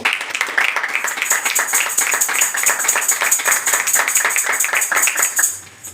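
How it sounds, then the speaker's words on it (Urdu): Church congregation clapping and applauding during a Father's Day sermon, a dense, steady burst of many hands that stays loud for several seconds before trailing off at the end. "آپ کی بھرپور تالیوں."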